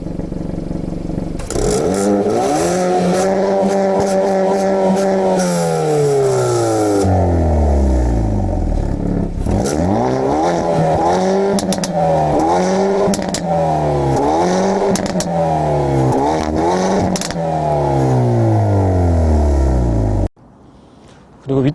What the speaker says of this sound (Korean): 머플러 사운드도 상당히 재미있습니다.